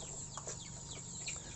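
Free-range chickens and chicks cluck and peep softly nearby, scattered short calls rising over a faint, steady background with no one speaking.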